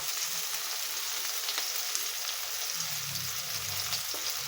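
Pechay with sardines and oyster sauce sizzles steadily in a pan while being stirred, with a close, continuous frying hiss and a few soft scraping stirs, and no voices.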